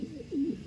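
A racing pigeon gives a single close, low coo that swells in the middle and then fades, standing alone with no talk.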